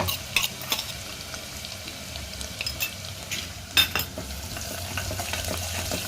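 Ginger, chili and garlic paste frying and being stirred in a pan for restaurant-style sambar: a steady close sizzle with occasional spoon scrapes against the pan.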